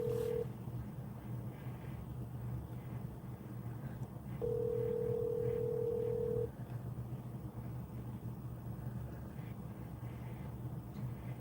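A telephone keypad tone rings out in a quiet room: one short beep, then a longer steady tone of about two seconds over a low continuous hum.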